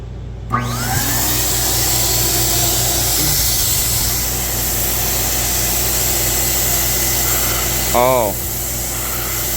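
Loud, steady hiss and motor drone from a DYC sprayer kit applying Plasti Dip to car wheels, running continuously, with a brief squeaky burst near the end.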